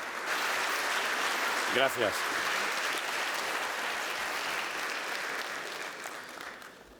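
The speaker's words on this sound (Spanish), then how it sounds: "lo recibimos con un cálido aplauso" Warm applause from a conference audience welcoming a speaker to a lecture on leading work teams, a steady wash of many hands clapping throughout, with a short spoken word partway through, fading slightly at the end.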